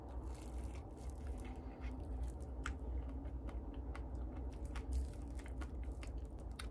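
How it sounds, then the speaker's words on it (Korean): Someone bites into and chews a homemade strawberry fruit sandwich, with soft, steady mastication close to the mic over a low, constant background hum and no speech. "한 입 먹어볼게요."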